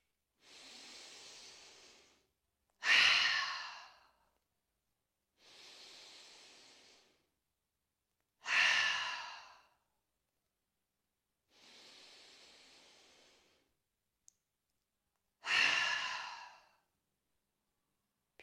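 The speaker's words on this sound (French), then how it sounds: "on va prendre 3 inspires par le nez et 3 expires par la bouche" Three slow breathing cycles during a gentle yoga routine: soft hissing inhales through the nose alternate with louder, sighing exhales through the mouth, each separated by a pause, close and quiet with no talking.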